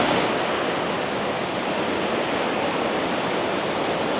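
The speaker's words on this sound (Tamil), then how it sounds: "எப்படி இருக்கு பாருங்க வாட்டர் ஃபால்." A waterfall roars in a steady, loud, unbroken wash of broadband noise, close and continuous with no voices over it.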